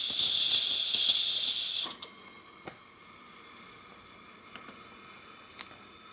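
A DeLonghi espresso machine vents a loud, steady hiss of steam for about two seconds, then cuts off abruptly, leaving quiet ticks and faint high tones.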